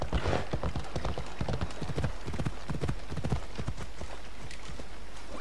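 Horse hooves clip-clop in a quick, steady gallop in Assassin's Creed Odyssey, close and continuous over game ambience, with an occasional faint whinny.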